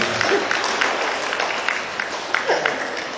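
Applause from an audience at an elementary school graduation ceremony (SDIT Rabbani class 9, 2023), a steady wash of clapping with scattered sharper claps and faint crowd murmur throughout.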